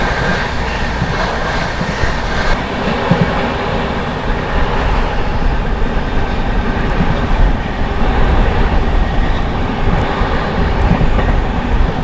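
The 02563 Barauni–New Delhi Clone Express runs past Hathras Junction with a loud, steady rumble and rhythmic wheel clatter from on board, unbroken throughout.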